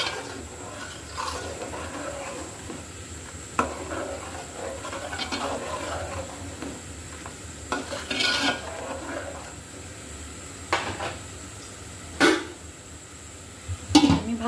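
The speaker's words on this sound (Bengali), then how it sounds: "আমি ভালো করে ঝোলের পানি সহ আমার মশলাটা কষিয়ে নিই।" A spoon scrapes and rasps against a pot while masala is sautéed with fish-curry liquid, close and moderate, steady rubbing broken by a few sharper metallic clinks, no talking.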